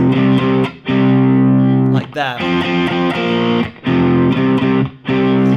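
Loud, heavily distorted electric guitar riff with chugging chords cut by short gaps and a pitch slide midway; a brief spoken remark comes in.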